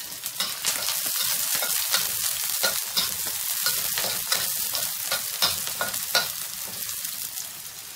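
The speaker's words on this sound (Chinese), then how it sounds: "往上要开炒，葱姜蒜爆香" Scallion, ginger and garlic stir-fried in a hot wok produce loud, continuous crackling sizzle with rapid rhythmic scraping and tossing strokes, close and steady throughout.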